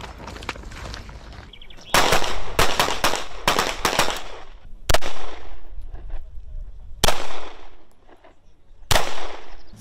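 Rifle and pistol gunfire on a Turkish gendarmerie commando training range, with loud sharp shots, some in quick clusters and others single, ringing against a steady outdoor background.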